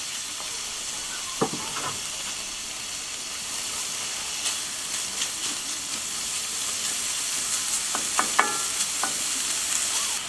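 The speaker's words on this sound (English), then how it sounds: "fry up the bacon a little bit." Bacon frying in its own fat in a pan, a continuous close sizzle and hiss with occasional pops and light stirring clicks scattered across, no voices heard.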